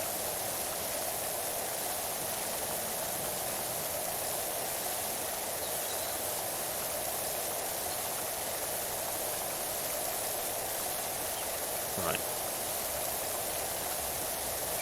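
A pressure washer spraying in PowerWash Simulator gives a constant, steady hiss of water jet that stays level the whole time, with one very brief spoken word near the end.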